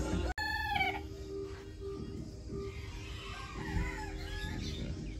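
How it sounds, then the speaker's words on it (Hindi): An Aseel rooster crows briefly at the start, then faint hen clucks and scattered bird calls continue over a steady background hum. "ये मुर्गे थे जो रात में थे"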